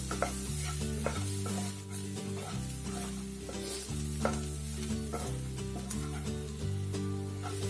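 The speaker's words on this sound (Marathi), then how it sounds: "आपला कांदा चांगला परतला गेला" Chopped onion sautéing in a pan for dhaba-style dal tadka, a loud continuous sizzle with frequent scraping stir strokes, close and steady throughout with no talking.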